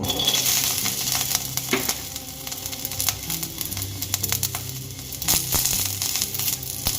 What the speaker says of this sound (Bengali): এখানে আমি কিছুটা খোসা ছাড়ানো রসুনের টুকরো করে নিয়েছি, সেগুলো আমি আবার ভেজে নেব।